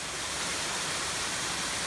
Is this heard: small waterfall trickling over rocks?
yes